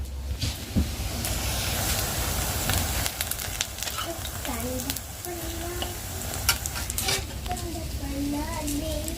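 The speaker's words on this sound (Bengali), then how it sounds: "তেল দিয়ে তেল গরম করে এই যে দিয়ে দিচ্ছি বড়াগুলো এক এক করে সাইজ করে" Lentil fritters frying in hot oil in a pan, a constant loud sizzle with occasional clinks and stirring, while a person talks over it intermittently.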